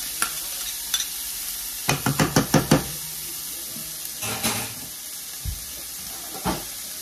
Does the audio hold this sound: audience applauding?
no